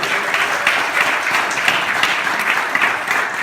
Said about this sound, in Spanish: ¿Cuántos pueden darle un aplauso a Dios?